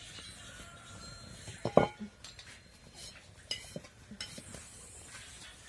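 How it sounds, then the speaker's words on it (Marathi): A tawa griddle is set down on a kitchen stove, giving a sharp metallic clink and clatter of cookware partway through, with quieter pan and utensil knocks scattered around it. "तर आता आपण त्यावर तवा ठेवू, म्हणजे गरम होईल तवा आपला चांगला तापण."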